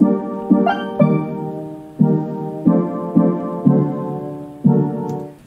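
A basic chord progression for a tropical-style beat plays with its middle notes left uninverted: a string of struck, plucky synth chords in an uneven rhythm, each decaying quickly, clean and alone.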